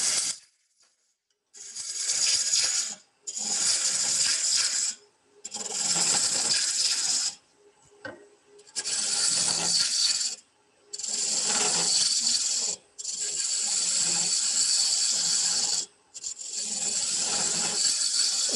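A roughing gouge cuts away wood on a spinning wood lathe in loud, close hissing bursts of several seconds each, separated by short pauses as the tool is repositioned.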